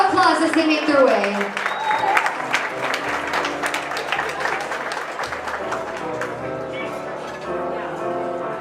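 Wedding guests at a reception applaud as the toast speakers make their way up, with a burst of clapping and crowd noise at the start that settles under a bed of music and some voices.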